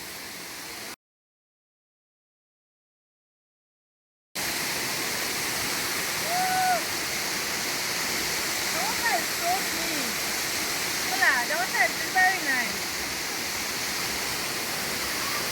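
Adom Waterfall at Obosomase flowing with a steady broadband rush of falling water, loud and continuous after a brief silent gap, with faint bird chirps over it.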